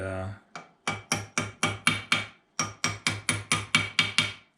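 A hammer taps a metal pin into a guitar string-through ferrule hole in a steady series of about twelve sharp, ringing strikes, close and loud, after a brief low hum at the start.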